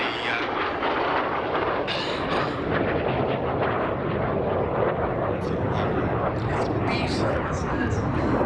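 A MiG-17F Fresco jet makes a low, slow pass at an air festival, a loud, continuous roaring jet rumble that holds steady throughout, with people talking faintly underneath.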